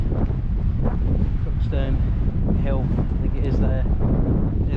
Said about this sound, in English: Pretty windy as well actually.